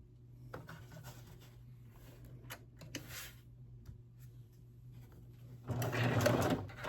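A sewing machine stitches red and white quilt fabric strips, quiet intermittent bursts of whirring stitching at close range, ending in a louder, sustained run of rapid needle chatter.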